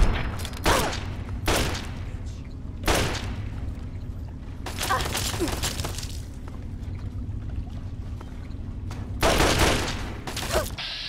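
Several bursts of gunfire from the PC video game Fallout 3 erupt at intervals, loud and close, with quieter game ambience filling the gaps between volleys.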